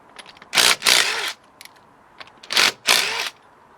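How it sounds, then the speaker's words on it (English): An impact driver fitted with a 19mm socket breaks loose the tie rod end nuts in two pairs of loud, short rattling hammer bursts, close by and alone. "This is a 19mm socket. I'm using an impact driver, so crack the nuts off."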